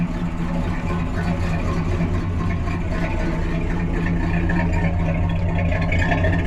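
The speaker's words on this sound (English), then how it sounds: "It's got a nice dual exhaust sound, nice tips." A 1967 Chevrolet Impala SS convertible with dual exhaust runs at a steady idle, a constant low burbling engine drone throughout.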